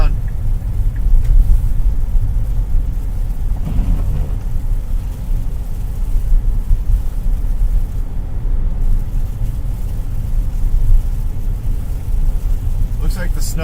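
A car drives on the I-5 freeway near the airport in Seattle during a dry snowstorm, with a steady, loud road and engine rumble that lasts throughout.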